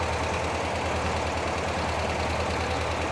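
A 1975 fuel-injected VW Beetle engine runs at a steady idle, a close, continuous low rumble with a faint regular pulse and no talking.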